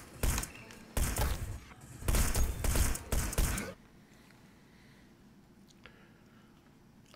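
Gunfire from guards in the stealth video game Hitman: Blood Money, a rapid cluster of loud shots and thuds over a few seconds, then near quiet.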